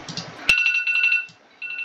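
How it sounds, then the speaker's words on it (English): A phone alarm rings near and loud: a sharp onset, then a steady repeating electronic ringtone that pulses in short bursts, briefly drops out, and resumes. "That was my phone, because I do have to set an alarm"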